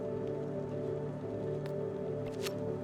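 Rain falls in the video game My Hero Academia Simulator as an even, continuous patter on surfaces, moderately loud and close, with a couple of brief bright splashes.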